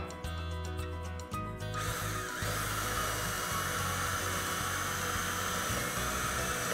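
A power drill bores a hole through the base of a pine bench leg, giving a steady, close motor whine that shifts in tone partway through and then holds evenly, with no one speaking.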